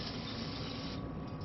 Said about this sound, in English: So blast it up with a brake cleaner spray,